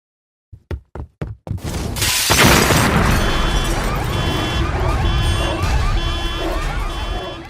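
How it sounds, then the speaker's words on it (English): An explosion in the animated film Batman: The Killing Joke. Four sharp, evenly spaced knocks lead into a loud roaring blast, followed by sustained rumbling debris and crackling under a repeating high electronic tone. "Batgirl miraculously survived the explosion"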